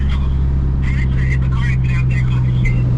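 Two Dodge R/T cars and a Mustang on a highway, a steady loud low engine drone filling the clip while voices talk over it throughout.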